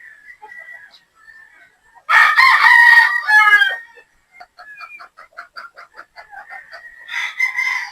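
Gamefowl pullets and chickens, 3/4 Sweater and 1/4 Boston crosses kept on a game farm, cluck and call close by, with a loud rooster crow in the middle and more clucking afterward.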